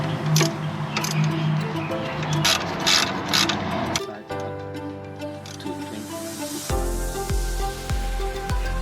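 A ratchet with a 14mm socket clicks in quick repeated bursts while reinstalling a sway bar link during rear suspension work, with close metallic clicking and a few clunks.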